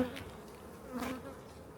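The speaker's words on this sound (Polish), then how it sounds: "pełno pszczoły. Multum pszczoły" Honey bees buzz in a soft, shifting drone, a few individual insects swelling briefly louder as they pass close, with the hum otherwise fairly faint.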